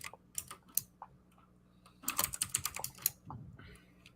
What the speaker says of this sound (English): Haven't heard many keyboard clicks this episode